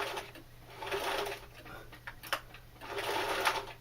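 Sewing machine stitching a knife carrier, a close, steady mechanical whirr in short runs that stops and starts, with soft handling noises between stitches.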